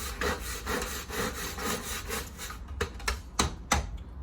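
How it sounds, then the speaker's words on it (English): A dusty old brush scrubs rust off a metal grill in rapid back-and-forth rasping strokes, steady and close at first, then breaking into a few separate harder scrapes near the end. "if you have an old dusty brush like this, you just can scrub it off a little bit"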